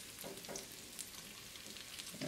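Bacon frying in a pan for a bacon, egg and cheese bagel, giving a steady close sizzle and crackle with a few brief louder spits, no voices.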